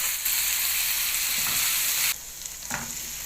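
Meat frying in butter with onion, peas and carrots, a steady close sizzle that drops slightly quieter partway through, with a brief stir or scrape near the end.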